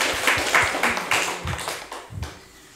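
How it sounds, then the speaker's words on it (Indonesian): An audience of teachers claps in a rhythmic group pattern at an education workshop, a few distinct bursts of hand claps at moderate loudness, tapering off by the end. "Tepuk tangan Bapak Ibu."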